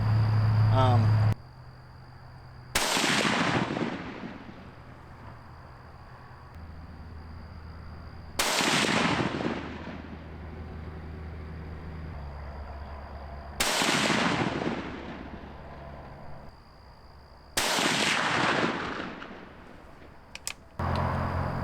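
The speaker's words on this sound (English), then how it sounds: "we just put 4 rounds down range" Four rifle shots fired down range on a hunting trip, each a loud, sharp crack with a rolling decay, spaced about five seconds apart over steady outdoor background noise.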